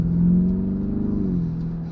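A Lamborghini Centenario Roadster engine revving up close, a loud deep growl that climbs and then falls away over about two seconds, with a steady rumble underneath.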